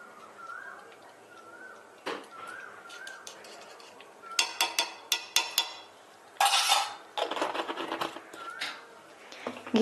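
Ghee and garam masala are stirred into a jackfruit curry (echor kaliya) in a pan: a spoon clatters and scrapes against the metal in uneven bursts. There is a softer hiss between strokes and no talking.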